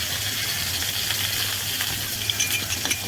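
Cauliflower frying in a pan in a home kitchen gives a soft, steady sizzle with faint crackles, quiet and close, alongside a low hum and no talk.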